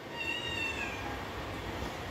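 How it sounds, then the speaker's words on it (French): A young pet cat named Ron gives a single drawn-out, high meow close by, over a steady low household hum, with no one speaking. "Je supporte pas qu'il miaule"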